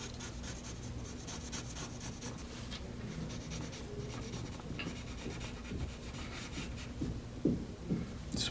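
A pencil sketches an arm on paper in a drawing lesson, a steady close scratching and rubbing of graphite that runs throughout, with a few sharper strokes near the end.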